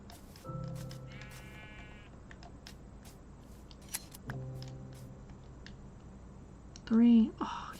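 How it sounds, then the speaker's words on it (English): A black sheep in Minecraft bleats a few times, short nasal calls spread out over the clip, with a louder burst near the end and a person talking throughout. "Oh, black sheep."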